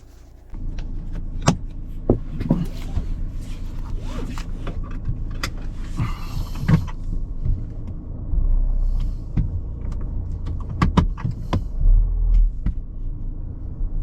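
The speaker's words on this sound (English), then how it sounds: "So going to give the car a test drive." A Volvo XC90 II D5 on a test drive after brake rotor, pad and fluid replacement gives a steady low road rumble, with scattered clicks and scrapes from inside the cabin. No one speaks.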